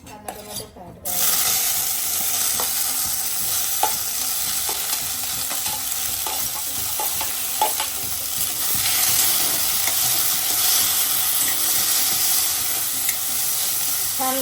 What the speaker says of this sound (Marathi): कांदा टोमॅटो फ्राय करायचा